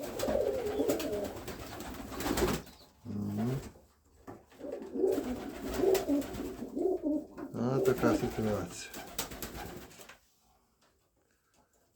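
Pigeons coo in repeated soft, throaty phrases close by, with a person speaking briefly over them before everything falls quiet.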